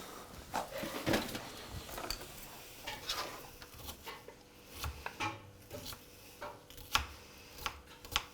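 An onion being chopped by hand in a home kitchen, a series of irregular knife taps on a board mixed with scattered utensil and pan clinks, fairly quiet and close.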